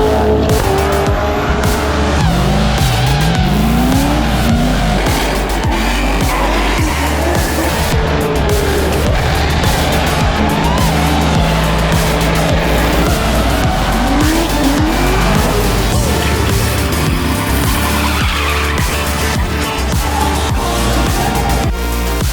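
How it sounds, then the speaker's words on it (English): Tires squeal through burnouts and donuts in a burnout pit at Holley LS Fest West in Las Vegas, with engines roaring loud and continuous and repeated rising squeal sweeps over a dense crowd-and-motor din. "you got a whole burnout donut pit where people are going ballistic, taking the tires off their cars"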